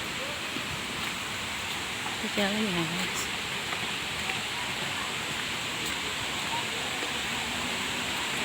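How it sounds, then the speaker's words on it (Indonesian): Bantimurung waterfall roars in a steady, broad rush of falling water at its source, continuous throughout, while a voice speaks briefly over it. "Ternyata di sini pusat dari air terjun Banting Murung."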